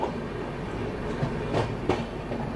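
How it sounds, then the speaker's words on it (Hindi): A train hauled by a WAP-7 electric locomotive runs steadily past Bina Junction in Madhya Pradesh, a continuous loud rumble with faint rhythmic wheel clatter and no voices. "WAP-7 लोकोमोटिव के साथ थी ये।"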